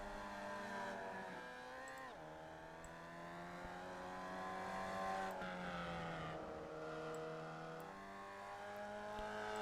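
Formula Vee race car lapping Brands Hatch during a practice session, its engine droning and rising and falling through gear changes as it nears the Druids hairpin, steady and fairly close, with no voices.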